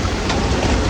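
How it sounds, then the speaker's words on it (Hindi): Steady rain pours at a street market in Bangalore, a dense, loud, even hiss of falling water with no voices in this brief stretch. "अभी बारिश आ रही है"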